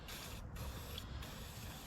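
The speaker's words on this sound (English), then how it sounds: "I'm spray some WD-40 in there." WD-40 sprayed from an aerosol can into a Ford 6600 tractor, a steady close hiss with two brief pauses, no voices.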